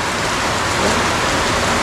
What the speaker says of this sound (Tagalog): At ito, continue pa rin yung ulan.